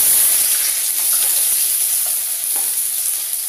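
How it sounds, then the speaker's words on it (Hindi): Chopped onions sizzle and crackle in hot cooking oil in a home kitchen, a steady close frying hiss with light stirring noises and no talking. "सो फ्रेंड्स देखिए, हमारा तेल हो गई है गरम।"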